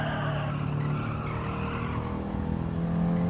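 Race car in Gran Turismo 7, a four-wheel-drive machine with rear-biased braking, roars steadily while tyres scrub and skid under hard braking, a continuous close engine drone with squealing rubber layered on top.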